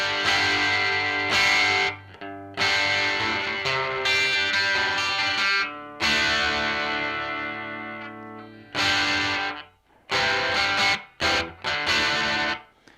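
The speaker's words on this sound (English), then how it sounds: "when we switch this over to the dirty channel, it sounds thin" An electric guitar through an amp's dirty channel without reverb, playing distorted chords with a thin, buzzy tone in loud ringing bursts broken by abrupt stops and short choppy stabs near the end.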